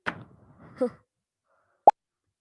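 A single sharp pop rings out near the end, short and crisp, after some faint rustling and handling noise.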